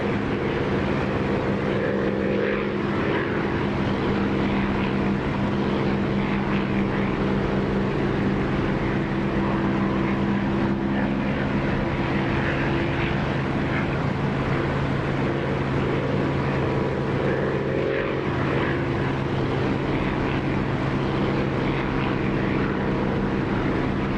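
An aircraft engine taxiing in the DCS flight simulator, a steady loud propeller drone with a constant hum that runs unbroken throughout and has no talk over it.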